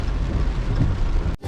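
Steady heavy rain with a deep rumble of thunder fills the scene continuously, loud and close, then cuts off abruptly near the end with a brief quieter patch of rain.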